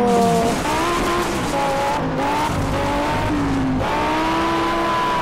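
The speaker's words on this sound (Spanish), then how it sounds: "Maltratando los neumáticos, cogiendo muy mal la curva" Race car in Project Cars, with sustained loud tire squeal as it corners badly, the pitched whine wavering up and down over a continuous engine drone.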